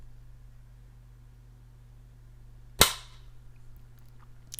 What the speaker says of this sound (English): see the pull on this trigger